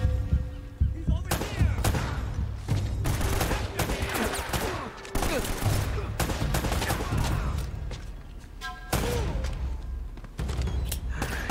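Gunfire in Uncharted: Drake's Fortune: rapid bursts and single shots crack in dense volleys for most of the stretch. A few pauses break the firing, with metallic clanks beneath it.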